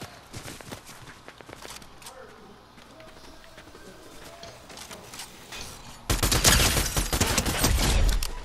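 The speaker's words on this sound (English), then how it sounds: "Who's shooting at me?" Gunfire in the Fortnite video game: scattered sharp shots crackle through the first six seconds, then a dense, loud burst of rapid fire takes over to the end.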